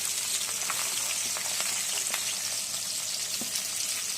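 Chopped onion sizzles steadily in a hot pan for chow mein, a close, loud, continuous frying hiss with a few soft scrapes and pops, no talking.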